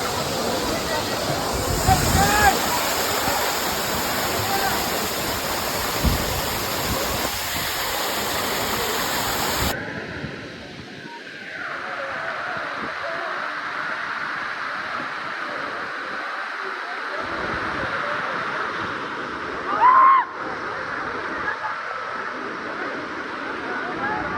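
Dudhsagar waterfall roars as a steady broadband rush, loud at first and then quieter and more distant after a cut, with people talking over it at times.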